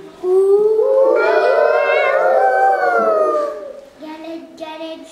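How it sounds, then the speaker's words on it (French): A wolf howls as a story sound effect, one long rising and falling howl that fills most of the stretch, then a shorter fainter howl follows near the end, loud and alone without talk. "Et voilà qu'elle rencontre le loup."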